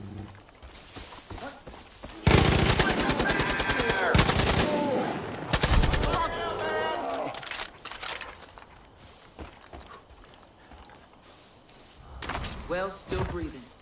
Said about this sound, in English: All this gunfire is going to make my hearing go.